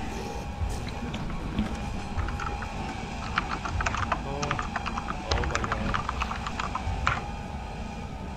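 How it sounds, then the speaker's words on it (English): Fast, uneven typing on a computer keyboard, with close, bright key clicks in bursts and short pauses, running steadily throughout. "there's so much typing"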